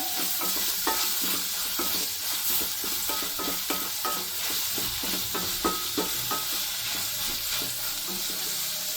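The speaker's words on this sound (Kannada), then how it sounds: "ಸ್ವಲ್ಪ ಉಪ್ಪು ಹಾಕಿ ಫ್ರೈ ಮಾಡಬೇಕು." Vegetables such as beans and carrots, with salt added, fry in hot oil for bansi rava upma, giving a steady close sizzle broken by repeated scraping strokes of a spoon stirring the pan.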